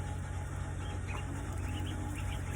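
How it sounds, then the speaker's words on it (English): Real baby ducks peep and cheep in soft, high, scattered calls close by, over a steady low hum and hiss in the background. "we have two very special duck friends helping us today"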